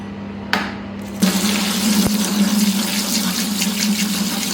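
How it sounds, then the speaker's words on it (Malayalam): Water pours into a bucket of paint, a steady gushing fill that starts abruptly after a few knocks and continues evenly and loud to the end, over a low steady hum. "ഇനി നമുക്ക് കുറച്ച് വെള്ളം ഒഴിക്കുക"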